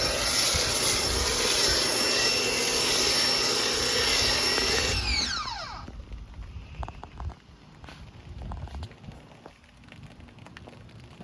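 Pressure washer spray rinsing foam off a car, a loud steady hissing roar for about five seconds that cuts off, leaving quieter dripping and faint background sounds.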